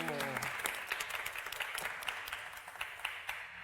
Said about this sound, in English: I got a cheer. That's nice.